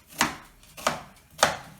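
A knife chopping onions on a board, three crisp, evenly spaced cuts, close and clear against a quiet background.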